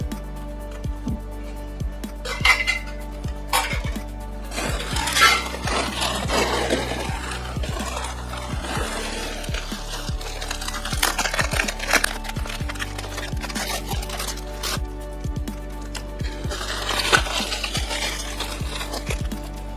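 Silver plate dishes and cutlery being handled from a bulk box, with scattered light clinks, taps and knocks of metal pieces over a steady low hum, close and sparse with no voice.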